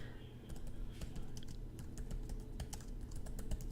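Steady run of computer keyboard typing, close and clear, with rapid irregular key clicks continuing throughout over a faint background hum.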